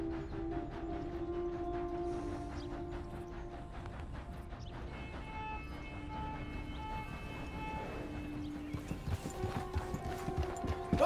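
Steady horse hooves clip-clop at a walking pace in Red Dead Redemption 2, with a horse whinnying partway through, over continuous game background sounds.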